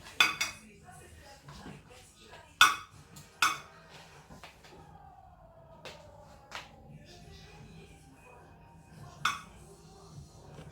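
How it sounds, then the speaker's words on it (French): Thiakry (dégué) is stirred gently in a bowl, with soft scraping and several sharp clinks of a utensil against the dish separated by quiet pauses, alongside faint murmured speech. "Je te laisse mélanger doucement."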